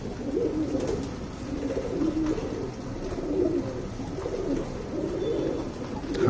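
A pigeon being shown off gives soft, repeated rumbling coos close by, in a steady rhythm over a faint background hum, with no talk.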